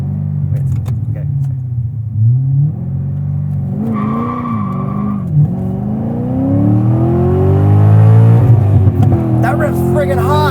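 A Chevrolet C6 Corvette Z06 V8 launches hard and accelerates, a loud close engine roar climbing in pitch through the gears with a brief tire squeal, while people talk over it inside the car.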